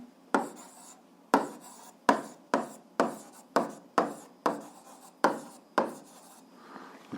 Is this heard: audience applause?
no